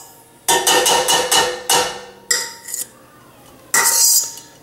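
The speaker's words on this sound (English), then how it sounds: "Stir it around just a little bit" Metal spoon stirring cream cheese in a hot pot, a series of loud scraping clanks against the pot sides in short bursts with pauses between them.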